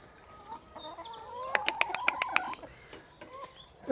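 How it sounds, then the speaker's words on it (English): Chickens with a cockerel among them clucking nearby, a quick run of sharp, rhythmic clucks in the middle amid softer calls and light background noise. "Look at the cockerel. They're all coming."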